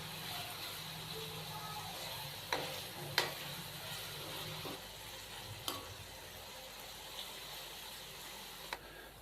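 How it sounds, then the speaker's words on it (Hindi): Chicken fries in a pan with ginger garlic paste for a chicken and vegetable biryani, a soft continuous sizzle with occasional sharp utensil clicks and scrapes from stirring, fairly quiet and without speech. "अदरक और लहसुन के पेस्ट के साथ हम चिकन की अच्छी तरह भुनाई कर लेंगे 3 से 4 मिनट के लिए"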